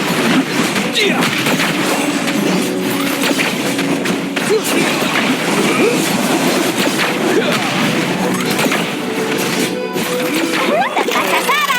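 Gunfire in the mobile game Magic Chess Go Go, a dense run of sharp shots and crashing impacts packed across the whole stretch, layered with busy game effects and music, loud and continuous with no talking.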